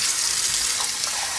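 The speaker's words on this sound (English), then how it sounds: "And now you just, you pour water in there?" Water pours steadily into a cooking pan for chicken, a loud continuous gushing splash that runs for the whole moment without a break.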